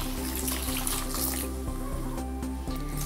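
Hot water pours into a pressure cooker while sambar is being made, a steady close splashing gurgle that shifts slightly in tone as it fills, with no speech over it.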